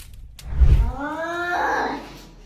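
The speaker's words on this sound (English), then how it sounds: "Terrifying cat." A cat gives a drawn-out, wavering yowl that rises and swells into a distressed caterwaul, preceded by a low rumbling thump, all close and loud with no talking.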